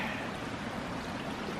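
Faint, steady trickle of water drizzling down a small rocky outcropping beside the Red Cedar Trail, a soft continuous wash with no voices.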